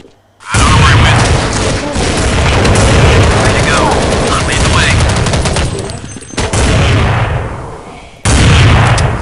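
Loud, dense bursts of gunfire in Counter-Strike 1.6 fill nearly the whole stretch, with rapid rifle shots and booms running together, two brief gaps of near silence around the middle and end, and players talking over the action.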